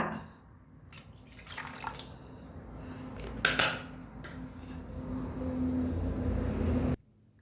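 Holy water is poured into a bowl, with a close trickle and splash that rises and steadies over several seconds, a few metallic clinks, and then an abrupt stop.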